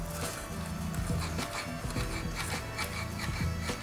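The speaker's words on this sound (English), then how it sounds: "It's actually moving the cable, so it's pushing the cable through, so it could be whatever resistance is in the cable and the housing" Bicycle brake cable dragging through its housing as the brake lever is worked, giving a continuous rough rubbing rasp with repeated gritty strokes, close and steady throughout.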